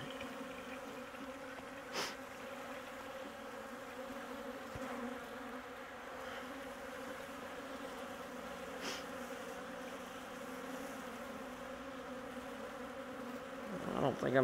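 Honeybees hum steadily around a beehive feeder, a continuous close buzz that persists without pause, with a slightly louder swell near the end.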